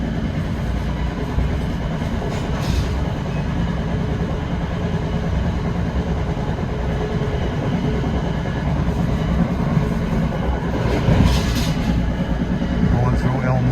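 An NJ Transit train runs along the rails on a New York to Atlantic City route, with a steady low rumble and rolling clatter throughout, a few brief higher bursts rising near the end.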